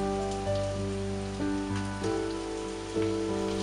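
Vegetable oil sizzles steadily in a hot frying pan, a continuous close crackle with a few louder bursts, heard alone.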